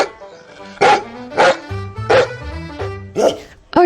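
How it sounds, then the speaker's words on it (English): A dog barks five times in loud, close, evenly spaced woofs over light background music on a farm. "D-O-G, dog."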